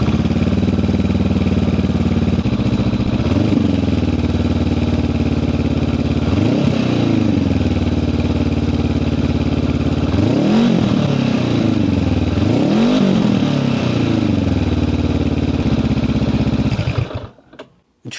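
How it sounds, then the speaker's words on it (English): Honda NX500 motorcycle fitted with a GR Moto aftermarket exhaust, idling loud and close after a cold start, punctuated by four sharp revs that climb and fall back before the engine shuts off. "the GR Moto on a cold start."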